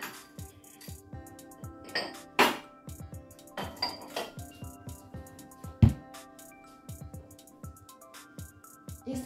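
A mixing bowl is handled in a home kitchen while preparing brioche dough, with repeated light clinks and clatters of crockery and utensils scattered irregularly throughout, close and moderately loud, with one sharper knock midway.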